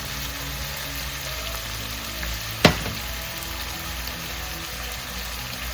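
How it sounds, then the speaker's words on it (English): Pork liver fries for adobo in a pan, giving a steady, even sizzle that runs throughout, with a single sharp clatter near the middle and no talking. "We're flavoring this up right away because liver cooks fast"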